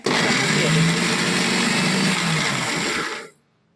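A mixer grinder grinding coconut whirs loudly and steadily for about three seconds, then winds down and stops abruptly, leaving silence.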